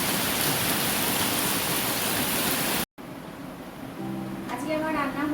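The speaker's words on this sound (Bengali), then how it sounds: "এবার জল ঢেলে দেবো।" Water pours into a cooking pot for a potato and ridge gourd fish curry, making a dense, steady splashing rush for a few seconds; after a brief break a quieter trickle follows and a voice is heard softly at the end.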